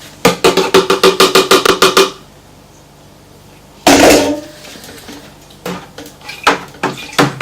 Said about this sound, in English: we'll give this a good stir in here